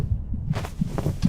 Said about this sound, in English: One more way to show the presence of the hearts is to use a sound effect of a heartbeat.